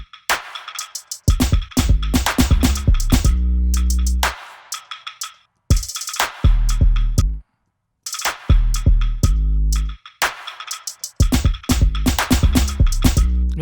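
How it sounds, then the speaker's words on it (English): An offbeat snare drum in an R&B mix, mostly alone, striking steadily between deep kick hits in a repeating loop. "The next thing that I have on the drum section is just this snare offbeat."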